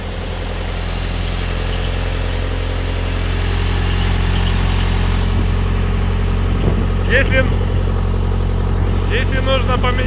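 A Thermo King refrigeration unit's engine starts and settles into a steady, loud idle with a deep, constant drone. Nearby voices and a couple of brief clanks can be heard over the running engine.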